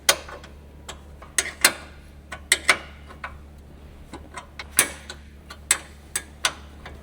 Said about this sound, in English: Use a 10mm wrench to tighten the hood latch mounting bolts.